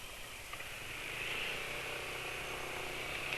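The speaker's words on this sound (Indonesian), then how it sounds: "Karena awal-awal mesin dinyalakan ya termasuk kasar juga" A car engine idling on Evalube Molytec oil just after start-up, a steady and fairly rough hum with a raised hiss. It runs continuously at moderate level with no voices.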